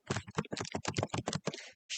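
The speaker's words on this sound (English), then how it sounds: "Here you can enter your password again." Keystrokes on a computer keyboard as a password is entered, a quick run of close, distinct taps in bursts with a brief pause near the end.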